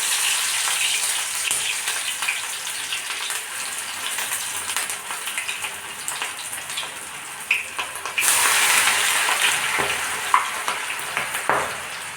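Sweet corn vada batter dropped into hot oil for deep-frying, a steady close sizzle and bubbling throughout that surges louder partway through as more batter goes in, with no talk.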